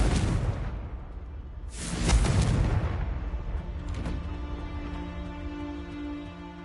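An explosive Confringo spell fired in Hogwarts Legacy, a sharp whooshing boom followed by a second louder blast, then ringing tonal magic shimmer fading out, with no voices.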